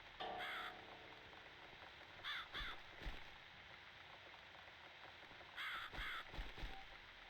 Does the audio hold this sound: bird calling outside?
yes